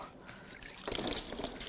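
Green coolant dripping and trickling from a BMW 335i N54 twin-turbo engine, faint at first, then a denser spattering trickle of liquid nearby.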